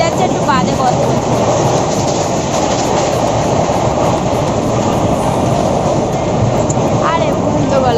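An Indian passenger train from Anand Vihar to Sealdah rolls along with a loud, continuous wheel-and-carriage rumble and occasional faint squeals, heard from inside the coach, with voices talking over it.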